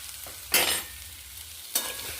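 Puti fish and crushed figs being stir-fried with spices in a pan, a soft steady sizzle with two louder bursts as the mixture is stirred and turned, fairly quiet with no speech.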